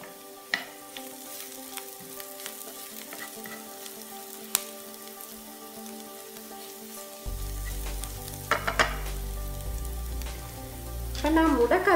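Golden-brown onions sauté with chili flakes in a pan. There is a quiet sizzle with scattered stirring knocks at first, then the frying grows louder and denser with more clattering stirs toward the end. No voices.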